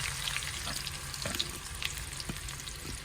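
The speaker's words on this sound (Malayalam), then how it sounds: "ഒരു ബ്രൗൺ കളർ വരുന്നത് വരെ വറുത്തെടുക്കാം നമുക്ക് ഉള്ളി" Onions sizzle steadily in hot ghee, frying until brown, a constant crackling hiss with occasional stirring clinks, no talking.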